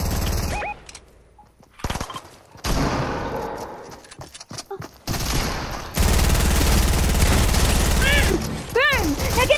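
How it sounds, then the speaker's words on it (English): Fortnite gunfire comes in several bursts of rapid automatic shots and single cracks, near and loud, separated by quieter gaps. A rising whistle-like tone sounds near the end. "somebody's shooting me"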